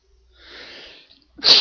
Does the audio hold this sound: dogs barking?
no